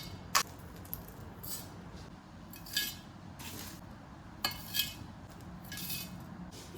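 Homemade muesli of oats and nuts, scented with oil and cinnamon, clinks and rattles into a storage bottle at home in a few brief bursts of rustling and glassy taps, fairly quiet, no talking.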